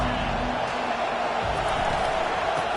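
A large stadium crowd at a Big 10 college football game between Oregon and Wisconsin, a dense continuous roar filling the air with a faint commentator voice underneath.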